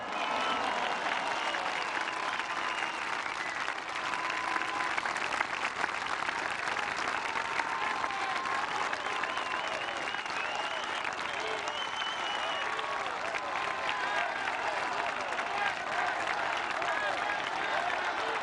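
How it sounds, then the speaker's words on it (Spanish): A large crowd applauds steadily and loudly in honor of Mexico's Armed Forces at a presidential state address, the dense clapping sustained for the whole stretch with a faint murmur of voices beneath. "les pido que les brindemos un fuerte aplauso a las Fuerzas Armadas de México"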